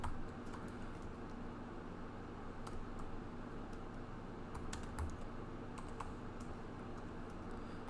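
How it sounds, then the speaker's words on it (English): Typing on a computer keyboard, with quiet, irregular key clicks in small clusters over a steady low room hum, without anyone talking. "let me quickly type here"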